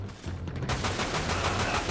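Rapid bursts of gunfire in Dirge of Cerberus, the Final Fantasy VII shooter, close and loud, starting after a brief quieter moment and continuing as a steady fusillade.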